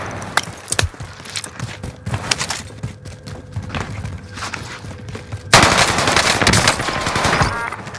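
Gunfire in Call of Duty Warzone on the Fortune's Keep map, repeated sharp shots and bursts throughout, becoming a dense, loud stretch of sustained fire in the second half.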